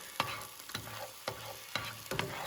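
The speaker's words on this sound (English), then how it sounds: "You can hear it sizzling." Garlic sizzles in a skillet at a desert camp, a steady close crackle broken by five sharp scraping stirs spaced roughly half a second apart, with no talking.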